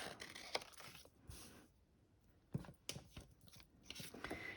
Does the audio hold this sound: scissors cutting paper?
yes